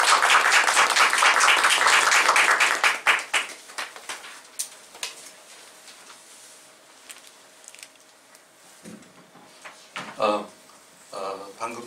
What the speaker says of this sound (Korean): 우리 나오실 때 큰 박수 하겠습니다.